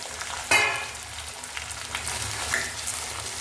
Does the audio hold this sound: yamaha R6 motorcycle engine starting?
no